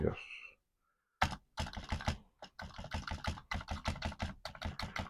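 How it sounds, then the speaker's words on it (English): Keys clatter on a filthy, yellowed Commodore 64 keyboard, pressed one after another in close, irregular bursts of crisp plastic clicks after a short quiet pause. "So the keyboard, although filthy, does seem to work all right."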